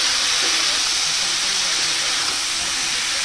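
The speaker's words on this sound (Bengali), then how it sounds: "একটু ভেজে নেব।" Sliced ridge gourd, a watery vegetable, frying in a pan as it gives off its liquid. The result is a loud, constant, close-up hiss of steam and sizzle with no break.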